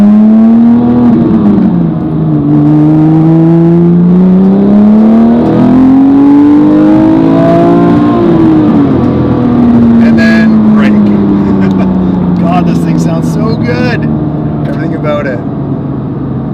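A 2010 Porsche GT3 engine revs hard on the road, its pitch sweeping up and down through several gear pulls, loud and close, while people talk inside the car over the engine noise.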